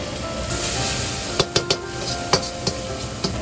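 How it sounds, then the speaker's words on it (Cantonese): Close-up sizzling and hissing in a hot wok, broken by a quick series of sharp spatula scrapes and clinks as food is tossed. "炒到佢水分蒸發"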